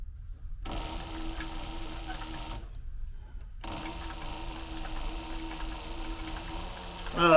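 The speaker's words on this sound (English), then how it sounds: "This is a Cobra Class 18 from Leather Machine Company." A Cobra Class 18 leather sewing machine from Leather Machine Company stitches heavy leather with size 138 thread, running in steady mechanical bursts with a brief pause between runs, close and moderately loud.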